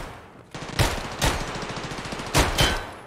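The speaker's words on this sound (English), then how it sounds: "Shoot him." Gunfire in the shooter video game Escape From Tarkov: a few loud, close bursts of shots in quick succession, separated by short pauses, no talking.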